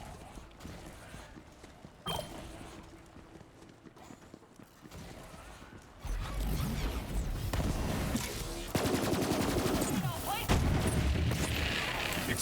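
Dense, sustained gunfire in Borderlands 3 played as a Gunslinger FL4K build, with rapid overlapping shots and booms that grow louder and more continuous in the second half.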